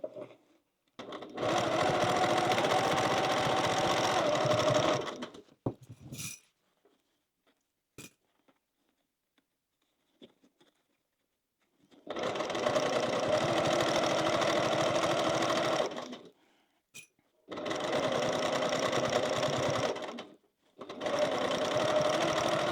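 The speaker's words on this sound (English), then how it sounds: "we're just sewing from where we stopped sewing at the top and finishing off that bottom seam" A sewing machine runs along the bottom seam of a crossbody bag in four bursts of steady whirring, the first and third longest, broken by quiet gaps with occasional faint clicks.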